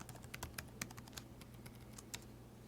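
Soft, faint keystrokes on a computer keyboard tap out a password in an uneven run over a steady low background hum, with no voices.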